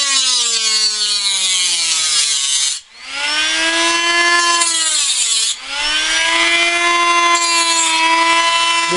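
A power tool cuts about half to three quarters of an inch into a piece, its loud, close motor whining and changing pitch, dipping twice as the cut loads and then recovering, with no voices.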